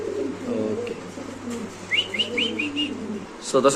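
Racing pigeons coo close by in a short run of soft, repeated calls with a few chirps, following a brief murmur of voices at the start.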